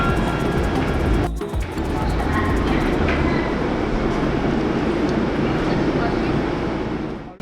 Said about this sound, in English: Here we are getting the train.